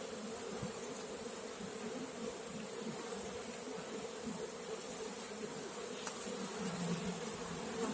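Dense, steady buzzing of a large mass of honeybees during a spring hive inspection, a continuous close drone that holds evenly throughout with no talk over it.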